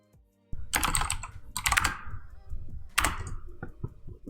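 Fingers type on a computer keyboard during architectural design work, bursts of quick, close key clatter separated by brief pauses, with no voices.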